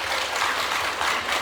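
A church congregation applauds a deaconess on her birthday during Sunday worship, a steady, dense wash of many hands clapping at moderate volume throughout.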